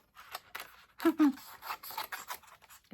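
Scissors cutting cardstock for a handmade card, several short close snips and rustling paper scrapes in quick succession.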